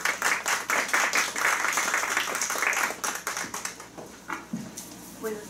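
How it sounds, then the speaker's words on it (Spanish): Applause at an academic course event on international conventions, scattered uneven clapping from a modest audience that thins into separate claps toward the end, with some background voices. "recibamos con un fuerte aplauso a la doctora"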